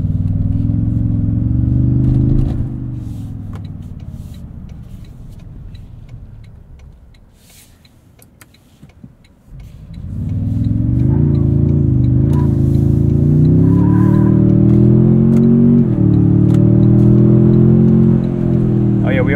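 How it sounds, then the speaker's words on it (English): A 2024 Toyota Tundra TRD Pro i-FORCE MAX with its turbocharged hybrid engine, heard from inside the cab. A loud engine drone fades almost away, then rises again into a strong, sustained roar of acceleration. "Fun turbo noises too. This is a boosty boy,"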